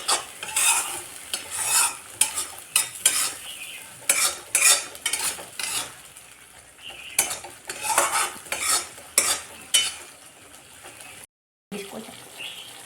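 Mustard seeds fry in oil on a low flame, hissing gently while a utensil stirs and scrapes the pan in repeated bursts, then a brief silence.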